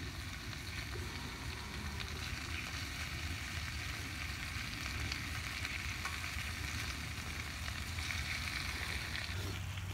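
Food frying in a pan over a campfire on a cold night outdoors: a faint, steady sizzle with light crackling, continuous and alone without speech.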